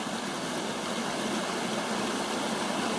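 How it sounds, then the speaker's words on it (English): Steady broadband rush of a small waterfall on a stream, continuous and fairly close, with no voices or breaks. "We've come to a little waterfall right here."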